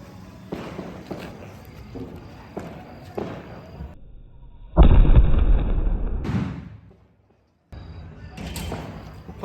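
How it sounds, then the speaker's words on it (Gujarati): A Diwali firecracker bursting overhead with a double bang, a loud blast followed by a fading roar, set among scattered pops, shuffling and faint background voices outdoors. "ઉપર જઈને ફૂટી છે. 2 ભડાકા વાળું છે."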